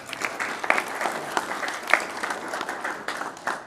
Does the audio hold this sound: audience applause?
yes